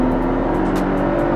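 A Mercedes C200 CGI with a 7-speed automatic accelerating, heard from inside as a loud, steady engine drone and road rumble filling the whole short stretch.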